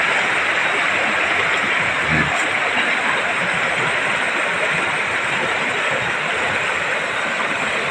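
Steady rushing water flows continuously, a broad full hiss from a clear river running nearby after a big flood, with no voices.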